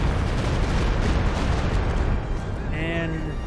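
Stuka zu Fuss rocket artillery barrage in Company of Heroes 2, a dense, continuous roar of rumbling blasts and crackling bursts that holds steady, with a high whistling whine rising near the end.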